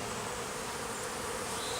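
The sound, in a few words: honey bees flying busily around a hive entrance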